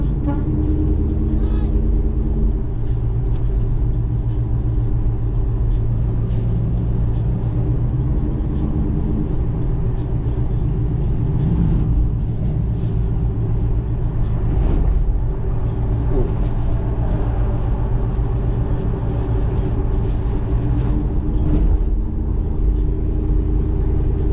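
Steady rumble of road traffic with cars passing in small groups at a hot rod tour stop, continuous engine drone throughout, and voices talking faintly underneath.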